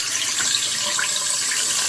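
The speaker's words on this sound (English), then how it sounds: "So let's see if I put water in there, what happens." Water from a tap pours steadily onto a Samsung Galaxy A52 5G phone, a continuous close hiss and splash at even loudness throughout, with no one speaking.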